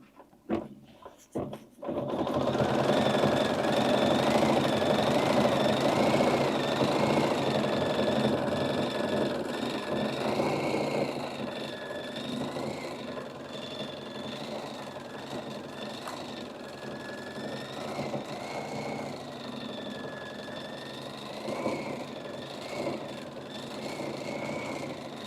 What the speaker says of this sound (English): It's a really smooth sounding machine. I like the way it sounds when it's sewing.